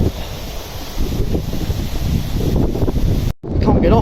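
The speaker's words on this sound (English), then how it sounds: "There's a wind coming down, pushing me against there." Wind gusts along a narrow canal at a lock, buffeting the microphone with continuous low roaring noise that cuts out abruptly near the end, then resumes.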